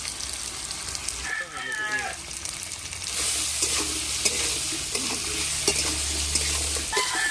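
Potato pieces frying in oil and being stirred in a pan, with scraping strokes and a steady sizzle that grows louder midway; a rooster crows faintly in the background.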